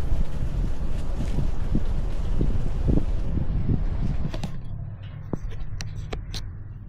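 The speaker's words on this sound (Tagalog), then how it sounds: "malakas yung hangin." Strong wind blowing steadily outdoors beside island lodging on Siargao, a loud continuous rush with gusty rumble that eases slightly toward the end, with no talk.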